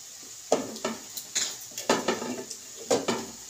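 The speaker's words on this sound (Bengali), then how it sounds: "আমি এবার চাপা খুলে দেখব" A lid comes off a pot of carrots simmering for gajar halwa, followed by a run of close, hard metallic clinks and clatters of cookware in an irregular rhythm.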